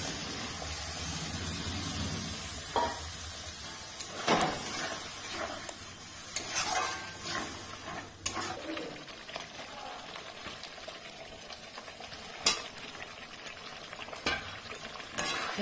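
Coconut milk poured into a simmering prawn malai curry in a pan, a soft bubbling hiss with scattered stirring clinks and scrapes, close by, with faint voices now and then.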